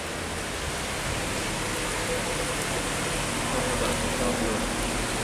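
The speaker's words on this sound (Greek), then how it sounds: "Βρέχει." Steady rain falls in Farsala, Greece, in a continuous broadband hiss, close and even throughout, with no voices and only a faint low rumble underneath.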